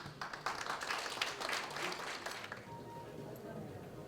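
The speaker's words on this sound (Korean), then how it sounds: "우리 유진수 총재님 큰 박수로 환영해 주시기 바랍니다." Audience applause welcoming the president at a lecture event: a crowd claps steadily for about two and a half seconds, then fades into quieter room noise.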